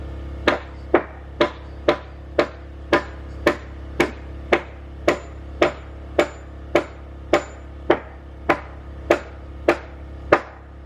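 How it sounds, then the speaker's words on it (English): Steady, evenly spaced hammer blows driving nails into timber garden bed frames, about sixteen sharp knocks in a row, close and loud with no talking. "you got to see Amy hammer some nails in."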